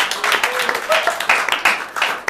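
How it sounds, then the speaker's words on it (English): An audience at a comedy show at The Threefer applauds, a dense, steady wash of many hands clapping close by for a couple of seconds, with a few voices calling out over it. "Give yourselves a round of applause."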